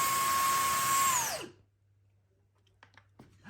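A Numatic Henry Quick cordless stick vacuum in boost mode whines steadily at high pitch, then spins down and cuts off abruptly, leaving near silence with a few faint clicks.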